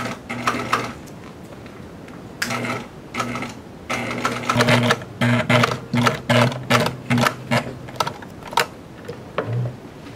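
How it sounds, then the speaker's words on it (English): A sewing machine stitches down one side of a blind seam in leather automotive upholstery, running in short whirring bursts and then a steady series of rhythmic, evenly spaced mechanical pulses, close and clear with no talking. "carefully stitching down one side of the blind seam, keeping the stitching as parallel and consistent as possible"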